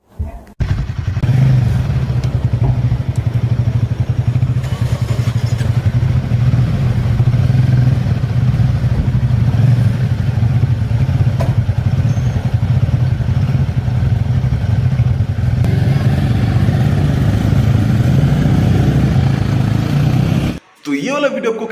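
A Royal Enfield Himalayan 450 motorcycle runs with a steady, deep exhaust rumble that holds almost unchanged for about twenty seconds before cutting off abruptly.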